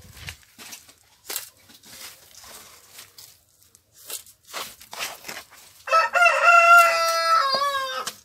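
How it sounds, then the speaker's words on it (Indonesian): After some soft rustling and handling noises, a rooster crows loudly and fairly close by, one long, strained call. "Maaf jika ada suara ayam yang sedang berkokok ya, agak mengganggu."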